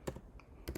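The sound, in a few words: typing on a computer keyboard in a Linux terminal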